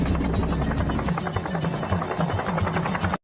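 Helicopter rotor in a war film, a steady rapid thudding chop that stays loud and close for about three seconds, then cuts off abruptly.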